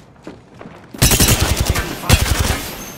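An R-301 rifle fires in the Apex Legends video game, loud close-up automatic bursts in two rapid strings of shots after a brief quiet moment.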